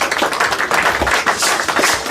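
A church congregation claps together in worship, a dense continuous patter of many hands with a steady rhythmic pulse, close and fairly loud, with no clear voices over it.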